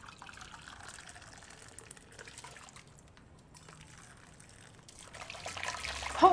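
Cold water in a kitchen sink where mussels soak, a faint trickle and gentle sloshing that grows louder and splashier toward the end, with no voices.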